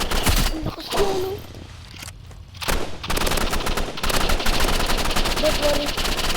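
Rifle gunfire in a video game rattles in rapid automatic bursts, loud and close, with a brief lull partway through before the firing resumes.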